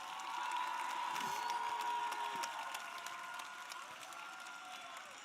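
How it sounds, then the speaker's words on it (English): Audience at a FIRST robotics regional event in Las Vegas applauds, a dense, steady wash of clapping mixed with crowd noise and scattered cheers that holds loud for several seconds, then eases slightly. "Can we give everybody that has volunteered this event a huge round of applause?"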